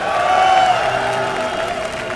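A large crowd at the MLG Columbus 2011 StarCraft II event cheers and roars for Moon, a steady, dense wash of voices and whoops filling the hall without a break.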